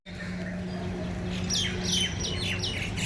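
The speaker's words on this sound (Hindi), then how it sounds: "आज तो गौरैया भी आई है पूरी" Sparrows chirp busily while being fed at a Mumbai flower market, with rapid overlapping tweets rising over a steady low hum of surrounding noise. The calls grow livelier partway through.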